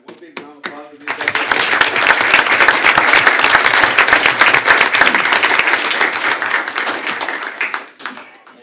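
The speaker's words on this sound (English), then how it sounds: "How about have one big round of applause for these guys?" Loud, sustained applause from a school board meeting audience honouring fall student athletes, rising sharply after a few opening claps and holding steady for about seven seconds before tapering off.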